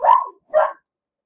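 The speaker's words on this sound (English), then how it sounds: "The dog's always barking." A dog in a World of Warcraft game gives two short, sharp barks about half a second apart, close and clear, followed by silence.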